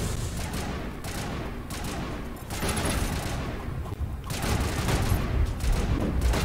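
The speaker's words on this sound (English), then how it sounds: "Can you mind not shooting me in the back" Sustained gunfire from the Mass Effect video game, played on Insanity difficulty in the Legendary Edition, with dense overlapping bursts of shots continuing loudly and steadily throughout, with no pause.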